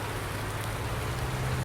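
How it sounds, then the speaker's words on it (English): Steady rain hisses in Farming Simulator 19 on an Alpine farm map, a dense, even wash of noise with a low hum underneath and no talking over it. "The rain is slowly dying out."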